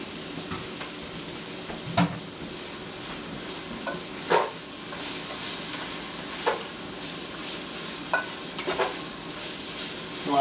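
Mushrooms fry with onions in a pan, a steady soft sizzle close by, broken by occasional stirring clicks and scrapes of a utensil, with no voices.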